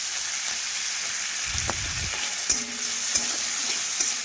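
Chopped onion and tomato fry with cumin and five-spice in a hot pan, giving a steady close sizzle with a few scraping stirs partway through and no talk.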